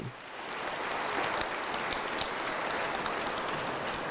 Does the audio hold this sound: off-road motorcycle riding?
no